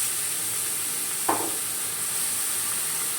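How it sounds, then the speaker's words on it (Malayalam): Half a kilo of chopped ginger fries in oil in a pan for Onam-style puli inji curry, giving a steady close sizzle with one brief scrape or stir partway through. "ഇനി നമ്മളിങ്ങനെ ഇഞ്ചി ഇട്ടിട്ട് ഇത് എണ്ണയിലിട്ട് നന്നായിട്ടൊന്ന് ഫ്രൈ ആക്കി എടുക്കണം"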